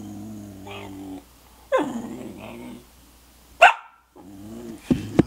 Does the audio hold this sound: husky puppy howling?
yes